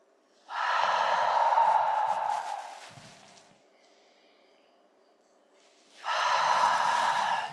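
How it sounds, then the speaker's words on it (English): Two long, deep breaths drawn in during a calming relaxation exercise, each a loud, close airy inhale lasting a couple of seconds, separated by a quieter stretch of fading exhale. "Nice deep breath in."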